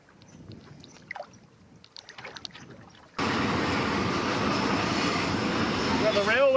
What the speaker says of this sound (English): Got the railway going beside me here.